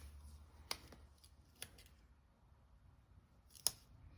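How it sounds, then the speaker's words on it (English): Scissors snipping at a paper planner sticker during a spring village plan-with-me layout, a few sharp isolated cuts spaced out over a quiet room, faint and close. "I'm going to try to trim this"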